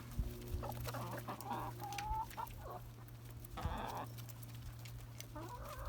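Backyard hens cluck and chatter excitedly over dried grub treats, several birds calling at once in close, busy bursts against steady low farm background noise.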